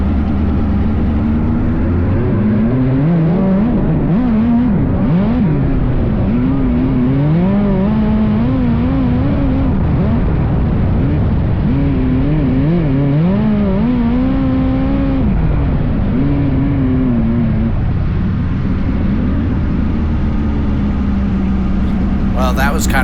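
Race cars run on the track at Port City Raceway, engines loud and close with rising and falling revs as they circle and slide sideways, sustained throughout.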